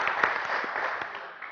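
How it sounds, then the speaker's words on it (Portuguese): Brief round of audience applause for Dr. Valmor at a ceremonial event, dense clapping with a few distinct louder claps standing out, fading toward the end with no speech. "Vamos aplaudir o doutor Valmor."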